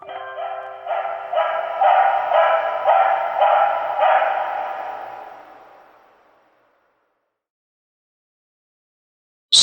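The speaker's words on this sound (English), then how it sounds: "The sound of paws on the floor, a distant bark." A dog barks in a quick, loud run of about six harmonic, howling yelps that blur together and trail off into silence, followed by a brief sharp noise at the very end.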